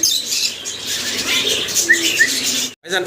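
Busy chatter of lovebirds and pigeons with chirps and soft cooing over a rustling, fluttering background, fairly close, continuous until a brief drop near the end.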